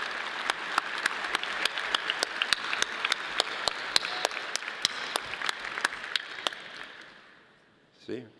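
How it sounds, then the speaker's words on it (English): A university commencement audience at Moby Arena, Colorado State University, breaks into sustained applause with dense clapping and sharp individual claps. It fades out near the end, followed by a brief sound from the stage. "please join me in applause for this, also for the CSU Brass Ensemble"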